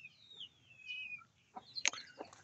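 A single broody hen gives a few short clucks and a sharp squawk in a quiet setting, faint and close.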